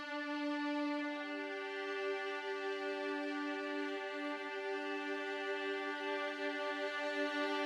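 A sustained, lush string ensemble holds a long chord, steady and full throughout, with subtle shifting textures inside the sound and no voices.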